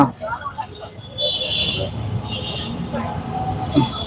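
A train pulls out of a station in Dhaka, its low rumble and rolling clatter rising steadily over about four seconds as voices talk nearby.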